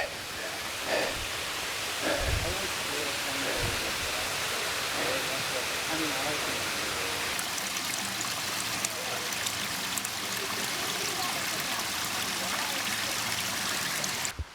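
A waterfall in Cuyahoga Valley National Park, a steady broadband rush of falling water, loud and continuous throughout, with a few faint bumps and handling noises near the start.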